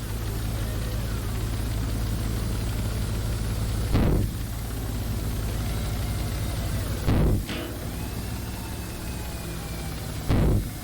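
Engine noise in the Stormworks: Build and Rescue game, with a steady low drone broken by three short, loud starting bursts a few seconds apart.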